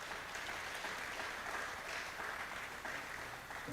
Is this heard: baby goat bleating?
no